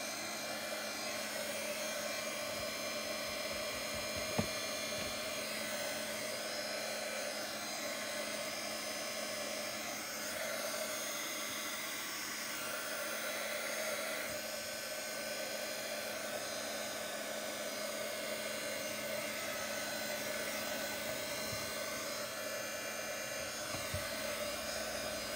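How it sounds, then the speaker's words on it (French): A heat gun blowing steadily over an art journal page, a continuous loud whooshing hiss with a faint motor whine that runs unbroken and alone throughout. "C'est ça qui me prend énormément de temps, de toujours passer le heat gun et tout ça."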